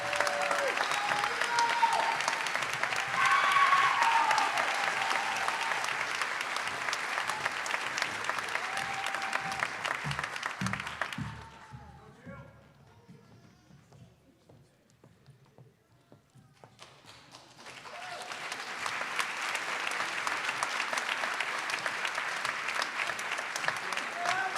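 Sustained applause from an audience at a nursing school pinning ceremony, loud and continuous for about ten seconds, dropping to a quiet lull, then swelling back into a full round of clapping.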